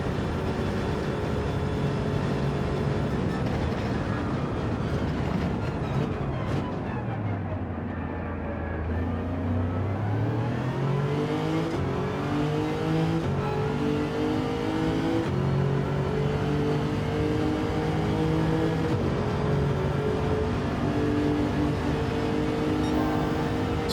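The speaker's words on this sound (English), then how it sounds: "if you listen to some of the engine noises that I make, the actual engine tune when I'm lifting" Racing car engine in Ultimate Racing League on the Deep Forest Reverse track whines loudly and continuously, pitch dropping on a lift and then climbing through successive gear changes, with no talking.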